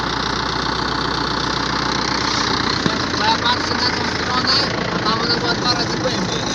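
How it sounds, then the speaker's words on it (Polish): A tractor engine runs steadily nearby, a loud, continuous rumbling drone with a rough knocking texture and no break, at a motocross track under construction. "Traktor znowu dęba staje."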